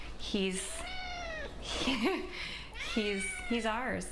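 A cat fed outdoors in Long Beach meows several times, with drawn-out, rising and falling calls close by, while a person speaks briefly between them.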